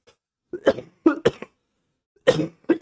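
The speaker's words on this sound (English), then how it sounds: "I'm trying to like lean away from the mic really hard and not cough into it." Several close coughs in two bursts, short harsh hacks separated by a pause, with no talking.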